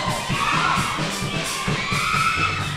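A church congregation at an all-night service screams and shouts together, a dense, loud, continuous roar of many voices close by that barely lets up.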